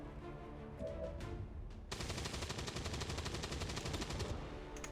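Gunfire in XCOM 2 erupts as a loud, dense burst that rolls on for about three seconds, preceded by quieter game sounds, with no talking.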